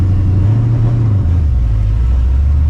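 Supercharged New Edge Mustang GT V8 with a lightweight flywheel downshifting, a steady low engine drone that drops in pitch as the revs fall, heard from inside the car with no talking.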